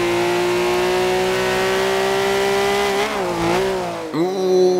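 Engine of a car in Forza Horizon 2 holding a steady high rev on the power, then wavering as the tail steps out through a corner and dropping sharply before revving back up, loud and close with no talk.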